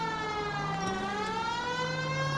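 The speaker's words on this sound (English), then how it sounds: "that siren's actually annoying me" Police car siren from the video game L.A. Noire, a steady wailing tone sliding slowly in pitch, loud and close, sounding alone without talk.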